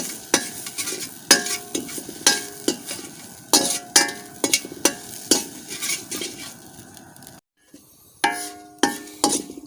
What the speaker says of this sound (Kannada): ತೆಂಗಿನಕಾಯಿ ತುರಿ ಲೈಟಾಗಿ ಫ್ರೈ ಆಗಿದೆ